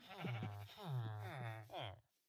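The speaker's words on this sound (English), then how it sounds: "I got 3 pink sheep now." Pink sheep in Minecraft bleat several times in a row, close and clear, each bleat a short wavering baa.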